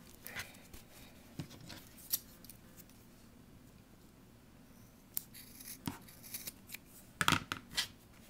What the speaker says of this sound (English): so just cut the excess off